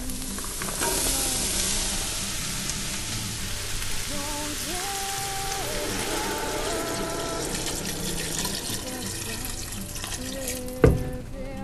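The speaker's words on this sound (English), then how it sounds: "After your leeks are done sauteing, you can add in your finely diced potatoes and your soup stock." Diced potatoes and soup stock going into a pot of sauteed leeks: a soft sizzle and watery pouring splash, a few clinks and one sharp knock near the end, no voices.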